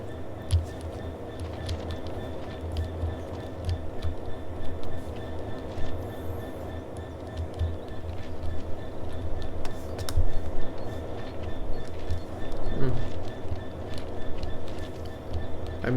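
A train in the Train Sim World 3 video game rolls along the rails with a continuous low rumble, scattered clicks and clacks over the track, and gradually swelling loudness, with no talking.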